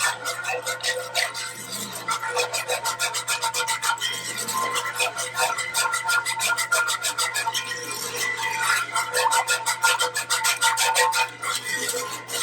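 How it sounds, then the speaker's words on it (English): A wire whisk stirs creamed peas sauce in a pan with a steady, rapid scraping and rattling rhythm that stays close and loud for the whole stretch, with no talking. "This doesn't work quite as well with a spoon, but it works great with a wire whisk."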